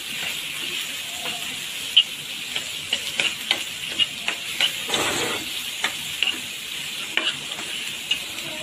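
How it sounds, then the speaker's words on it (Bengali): Green chillies, tomato and garlic fry in a pan with a continuous hiss of steam and oil, punctuated by frequent sharp clicks and scrapes of a utensil stirring at close range. "এখন আমি একটু হালকা একটু ভেজে নিয়ে দেবো"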